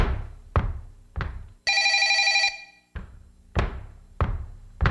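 A telephone bell rings once in a short burst in a French comedy sketch, set between loud rhythmic knocking thuds that come before and after it.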